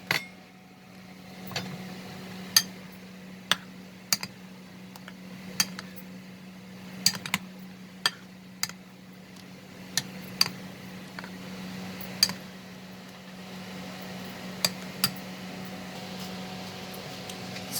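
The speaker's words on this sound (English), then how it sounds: "We are going to mix it with a spoon." A spoon mixing mangoes into cream and sugar in a bowl, giving quiet, irregular clinks and taps against the bowl over a faint background hum.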